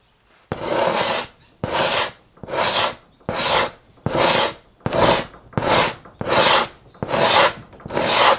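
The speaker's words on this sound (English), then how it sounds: "we're primarily going to be taking off the extra membrane that's just stuck on the hide" A sharp steel scraper drawn repeatedly across a large bison hide, stripping stuck-on membrane during natural tanning, giving about ten loud, close, evenly spaced rasping strokes with brief pauses between them.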